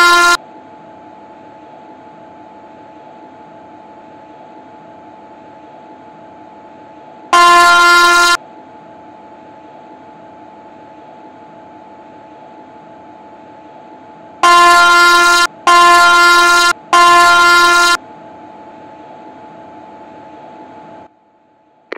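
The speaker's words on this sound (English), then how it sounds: "Blow horn and see if they budge." A locomotive horn sounds on a railway line with elephants blocking the track: one short blast, a second longer blast, then three loud blasts in quick succession, over a steady low engine hum.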